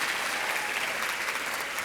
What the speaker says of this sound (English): Another round of applause for Fran Pastore